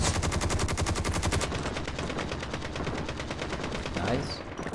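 AK assault rifle fired in Call of Duty Mobile during a Duos vs Quads match, rapid full-auto bursts in a steady rhythm, loud and close, with faint voice chat underneath.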